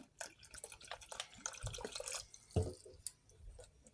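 Water is added to a rice flour and coconut batter, with small splashes and drips among clattery bowl and utensil noises close by, and no voices.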